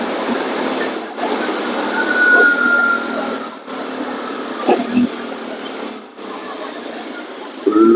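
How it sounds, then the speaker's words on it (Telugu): A road traffic jam with trucks heard from a Bajaj Dominar 400 motorcycle: a constant loud rumble of idling engines and wind noise, with occasional hissing air-brake bursts nearby. "ఫుల్ జామ్ ఇక్కడ, ట్రాఫిక్ జామ్ కూడా రోడ్."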